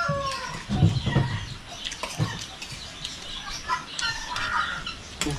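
Turkey calling among farm fowl, a few raspy, uneven squawks and clucks at close-to-middle distance over a low, busy background, with no clear talk.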